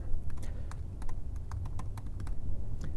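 Rapid, irregular clicks of typing on a computer keyboard, close and fairly quiet over a low background hum.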